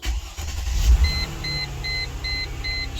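A 2001 Mercedes-Benz ML320 starts with the ignition key: a brief low cranking that catches into a steady idle, with a repeating dashboard chime beeping at a regular pace over the running engine.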